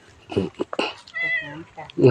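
A temple cat at a temple in Chae Hom, Lampang, Thailand, gives one clear drawn-out meow amid close human chatter and brief vocal sounds around it.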